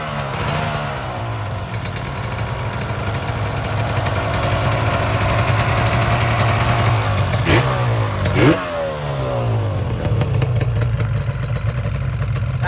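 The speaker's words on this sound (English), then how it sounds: "That's a cool motorcycle." A kick-start two-stroke motorcycle revving close by. The engine holds a loud, buzzing idle with rattling clatter and blips sharply upward twice near the end.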